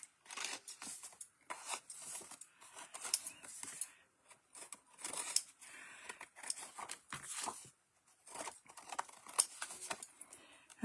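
Scissors trimming small paper card pieces, producing a string of short, crisp snips and rustles with brief pauses between them, close and fairly quiet.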